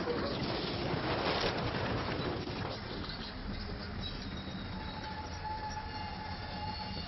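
A train rolls past on railroad tracks, a loud continuous rumble of wheels with some metallic squeal, birds faintly audible in the background.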